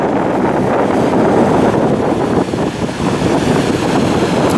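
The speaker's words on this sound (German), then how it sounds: "Ich hoffe, ihr versteht mich noch bei dem Wind" Strong wind on the coast at Heiligenhafen, Germany, buffets the microphone in a loud, continuous roar with no voices.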